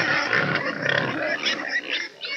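Piglets on a farm squealing and grunting in a dense, high-pitched chorus, close and fairly loud, with a short lull near the end, from a 1951 recording of farm animal sounds.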